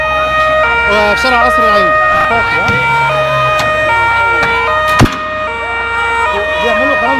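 Sirens wail continuously on a street during a protest broken up by security forces with tear gas, with a sharp bang midway and voices talking over the loud, steady noise.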